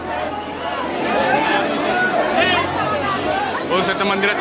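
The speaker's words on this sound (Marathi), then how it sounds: "गर्दीच गर्दी आहे" A dense crowd murmurs at Hanuman Garhi temple in Ayodhya. Many overlapping voices form a steady, close babble for the whole stretch, with no single voice standing out.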